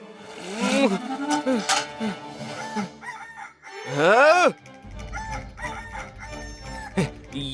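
A rooster crows loudly and close by several times, with a voice also heard in the background.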